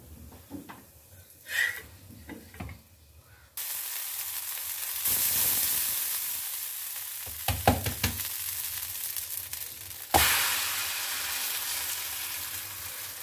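Shravani dahi dhapate flatbread roasting on a hot pan: a few soft clatters, then a steady close sizzle with brief knocks of handling partway through, no voices.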